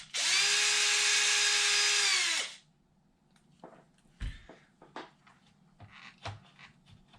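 A power drill whines loudly and steadily for about two and a half seconds, backing out the center bolt on an Arrma Infraction GT RC car. Quieter clicks, taps and parts handling follow up close.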